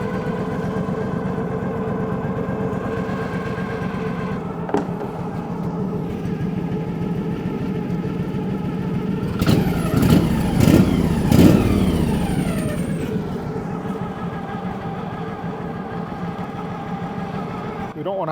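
An engine idles steadily with the clutch engaged and a belt spinning, a constant close rumble with a brief rise in revs midway, under ongoing talk.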